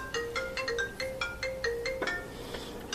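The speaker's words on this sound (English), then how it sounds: "Somebody's calling me." A phone ringtone plays a quick repeating electronic melody, clear and fairly close, with no talking.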